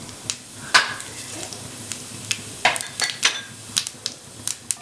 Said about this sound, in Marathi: परत कढईत आपण तेल घेतलेलं आहे, त्यात थोडेसे जिरे घालणार आहे